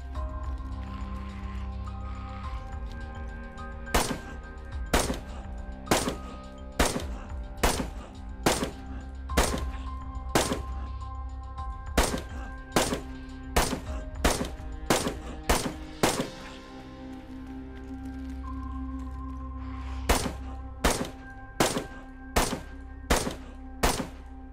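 A weapon fires repeatedly at a zombie in the DayZ Walking Dead zombie mod, about twenty loud, sharp shots in a steady rhythm with a short pause before a final burst, heard over a low game background hum.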